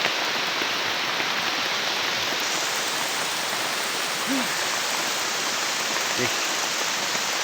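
Heavy rain pours down steadily as a dense, continuous hiss, loud and close throughout, with a single brief spoken word near the end.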